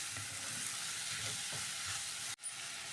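Capsicum vegetable curry sizzling in a frying pan as it is stirred, a steady hiss of frying with soft scraping strokes, broken by a sudden brief drop near the end.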